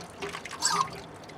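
Water spurts briefly from the pressure relief valve of a Truma AquaGo Comfort water heater during descaling. A faint, short hissing trickle swells and fades within about a second.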